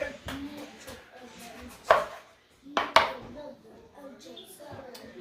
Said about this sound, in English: The next ingredient is our green beef steak tomato, okay? I'm gonna cut it in half.